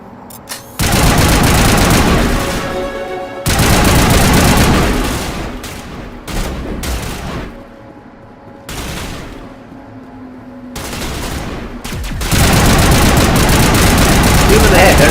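Gunfire in the Mass Effect video game, loud bursts of rapid automatic shots in several long volleys separated by brief quieter gaps, with scattered single cracks and a voice speaking between bursts.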